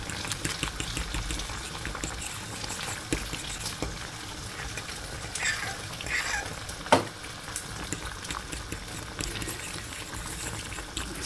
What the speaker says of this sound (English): Pull that back up to the boil.